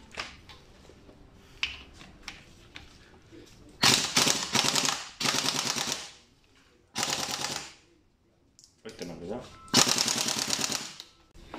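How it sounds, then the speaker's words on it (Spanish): A pneumatic impact gun hammers at bolts while a Renault F8Q 1.9 diesel engine is being taken apart, in four loud rattling bursts separated by quieter pauses. "Lo voy a sacar con pistola neumática."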